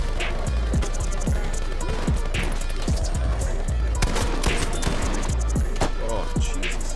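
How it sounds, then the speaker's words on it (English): Shotgun blasts in Battlefield 5 on Xbox Series X, a string of loud, sharp booms at uneven intervals among other game noise, with players talking over the action. "Time for shotgun."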